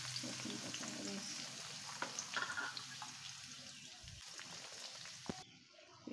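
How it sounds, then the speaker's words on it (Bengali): Chopped onion and garlic, with some green chilli, fry steadily in a pan as filling for stuffed pointed gourd. The sizzle holds through with occasional stirring scrapes, and it fades at the end. "আমি এখন পটলের পুরের জন্য পেঁয়াজ আর রসুন এগুলো ভেজে নিচ্ছি"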